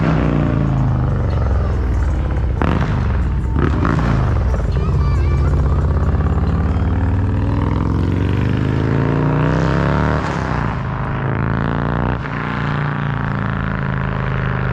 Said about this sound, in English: In case you couldn't tell, that was a motorcycle.